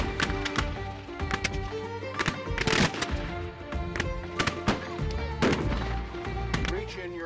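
Black-powder rifle volleys crack across the field during a Civil War battle reenactment, a dense run of sharp shots at mixed distances, some clustered and some scattered, with faint voices beneath.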